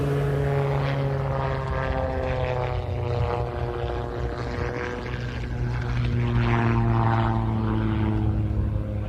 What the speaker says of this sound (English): coming from our left, the Calidus Auto Gyro with Pete Davies at the controls.